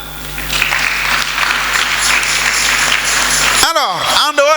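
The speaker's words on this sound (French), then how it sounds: "On acclame." Church congregation applauding at a full-gospel service, a dense, steady wash of clapping filling the room for nearly four seconds before cutting off abruptly, followed by brief voice sounds.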